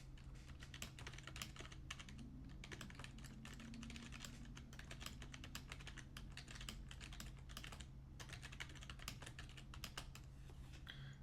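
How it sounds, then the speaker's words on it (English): Continuous close typing on a keyboard with whisper-quiet membrane switches, soft dense clicks in an even flurry over a faint steady hum, no voices. "This is what a membrane switch advertised as whisper quiet"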